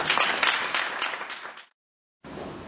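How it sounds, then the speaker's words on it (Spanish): An audience at a book presentation applauds steadily for over a second and a half, then a brief silence before the clapping resumes, moderately distant. "Les damos un aplauso."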